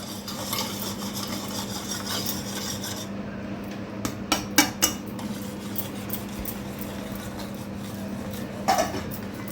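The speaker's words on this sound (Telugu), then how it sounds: "అది కూడా బాగా విస్కర్తో కలపాలండి" Steady scraping and stirring as a whisk mixes wheat flour into a sugar and oil mixture in a bowl, with a few sharp clinks against the side; no voices.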